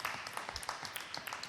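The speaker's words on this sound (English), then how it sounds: "So could we please have a huge round of applause" Applause from an audience in a conference room at the opening of a capacity building hub, a dense steady patter of clapping lasting the whole moment with no voices over it.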